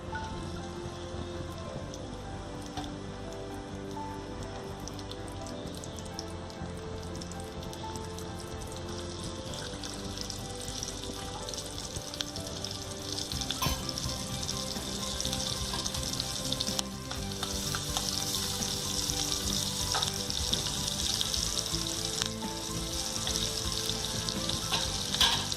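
Finely chopped shallots frying in hot coconut oil for a Kerala fish curry, a continuous dense sizzle like light rain that grows louder and busier toward the end, with no voices.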